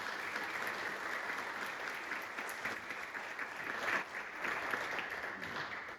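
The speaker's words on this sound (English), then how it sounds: "can we give Lee a round of applause?" An audience at a downtown stakeholders' assembly in Shelby gives a round of applause, a steady patter of clapping from a moderate crowd that sounds fairly distant and quiet throughout.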